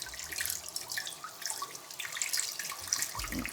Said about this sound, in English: So I'm just rinsing off the excess salt.